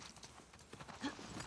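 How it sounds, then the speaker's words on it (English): Horse hooves clip-clop in the video game The Last of Us Part II: a quick, uneven run of hoofbeats under a faint ambient backdrop. "I thought that was coming down on the horse."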